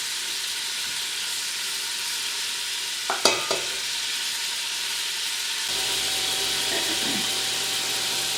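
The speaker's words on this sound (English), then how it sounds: "the beef has been browning, and I did it in 2 batches" Beef chunks browning in a hot pan for beef en daube, cooked in batches, give a steady close sizzle with a few sharp clatters partway through and a slightly fuller frying hiss toward the end.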